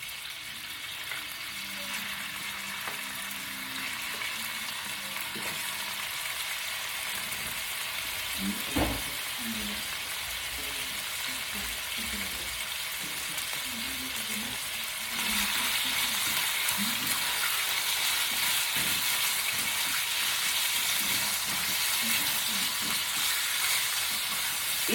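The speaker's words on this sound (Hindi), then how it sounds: "तेल गरम हो गया है, अब हम इसमें डालेंगे चिकन।" Boneless julienne-cut chicken strips fry in hot oil for pasta, giving a steady, dense sizzle throughout. Faint clinks and stirring noises sit under it, and a sharp tap comes about a third of the way in.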